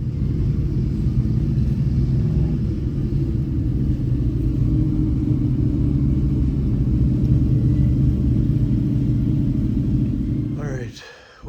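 Cars roll out after a car show in Saskatoon, a steady, close, low engine rumble that holds throughout and fades at the very end with a short final noise.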